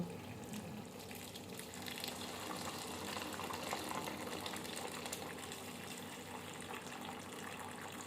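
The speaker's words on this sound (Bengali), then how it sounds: "এবার এখন আমি গরম জলটা অ্যাড করব" Hot water poured into a pot of browned mutton curry, a continuous steady gushing pour heard alone at moderate distance throughout, with no talking.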